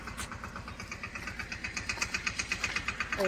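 A small tractor engine chugs steadily close by, its low, rhythmic knocking pulses growing slightly stronger toward the end.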